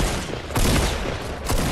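In Fortnite, two sharp sniper rifle shots crack out during a squad match, one at the midpoint and one near the end, loud and near against a dense, noisy game background.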